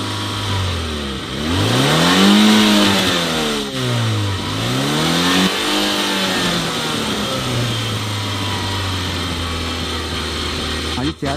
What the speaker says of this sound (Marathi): मी त्याचा एक्सिलरेटर ओढला तर